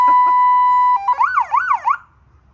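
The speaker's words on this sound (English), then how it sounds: "Wow, that's the Yelp I think right there." A PA system siren switched to its yelp setting: a steady loud tone first, then a rapid warbling up-and-down wail that cycles several times before cutting off, close and piercing.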